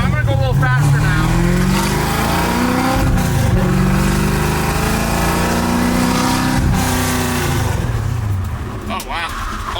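A 1967 Ford Mustang accelerating hard, its engine note rising and falling through revs in loud, close bursts with a brief dip partway and a tapering roar at the end.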